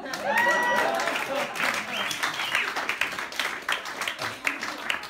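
A comedy club audience applauding and clapping after a poetry bit, a steady dense patter of many hands that fades unevenly, with a voice talking over the start.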